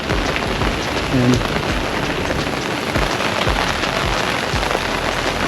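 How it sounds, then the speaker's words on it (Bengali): Heavy rain pours steadily and loudly at night in Langkawi, a dense continuous hiss of drops drumming on surfaces with no break. "প্রচণ্ড বৃষ্টি বাইরে, প্রচণ্ড বৃষ্টি।"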